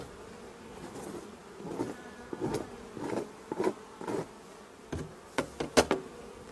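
Honeybees buzz around a hive box while the inner cover is cleaned, soft whirring drones swelling past close by, with a few sharp taps and knocks toward the end.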